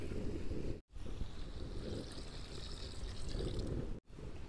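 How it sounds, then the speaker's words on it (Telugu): Water pours steadily into a pan of village-style country chicken curry, a continuous rushing splash running throughout with two brief breaks where it cuts out. "ఇప్పుడైతే మనం కొంచెం వాటర్ పోసేసుకుందాం."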